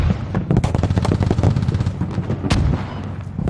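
Heavy weapons fire on a battlefield in the Squad video game, with mortars landing amid a thick, loud stream of rapid shots and booming impacts, one standout blast near the end, and no talking over it.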